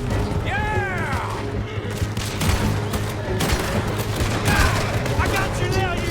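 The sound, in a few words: gunfire in video game Red Dead Redemption 2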